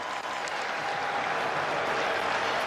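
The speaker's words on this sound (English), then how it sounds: "the crowd roaring behind him as he gets to the 41-yard line" A stadium crowd at a UFL football game roars steadily and loudly, a dense wash of cheering and clapping that holds without a break from start to finish.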